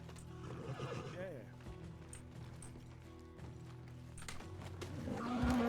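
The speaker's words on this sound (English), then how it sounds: "What is wrong with you, bleeding horse?" A horse in the Western roleplay game RedM whinnies and neighs loudly over steady game noise, with voices talking alongside it.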